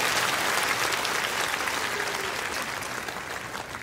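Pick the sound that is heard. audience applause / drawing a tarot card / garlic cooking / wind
audience applause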